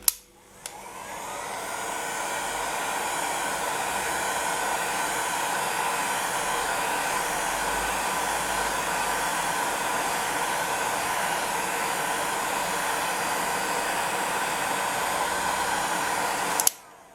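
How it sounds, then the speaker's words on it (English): A heat gun blows hot air onto scrap polymer clay, a steady, loud, close whir that runs unbroken for about sixteen seconds between a click on and a click off, with no talking. "I'm going to use my heat gun."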